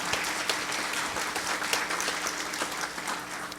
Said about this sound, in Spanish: Regálele un aplauso a este santo evangelio,